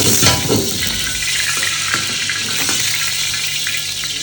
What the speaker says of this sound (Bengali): অয়েলটা দিয়ে দিলাম আমি আগে ডিমটা ভেজে নেব